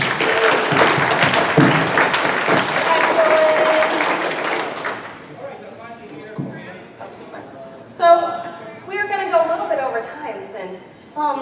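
Audience at a Bronycon 2015 convention panel gives a round of applause, dense clapping for about five seconds that fades out, followed by someone talking alone.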